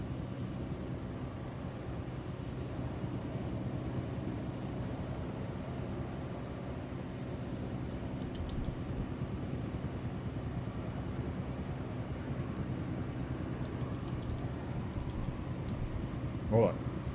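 Helicopter in a flight video game drones with a steady, muffled engine and rotor hum throughout, fairly even in level, with a brief click near the end.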